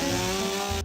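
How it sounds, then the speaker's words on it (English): A lawnmower engine runs at 6 a.m. with a steady, loud, buzzing drone that holds constant before cutting off abruptly at the end. "it's like 6 a.m. and the lawnmower going off"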